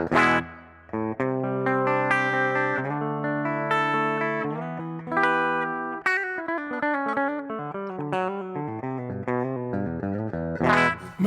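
Electric guitar through a ToneX ONE pedal on a Fender Mini Deluxe clean amp model with a touch of reverb, a steady run of picked chords and melodic notes, close and even, with no talking.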